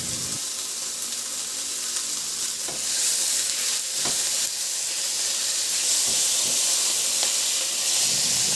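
Tomatoes dropped into a hot pan for ginataang monggo, a loud, steady hiss of frying with a few scraping stirs, close up and unbroken by talk.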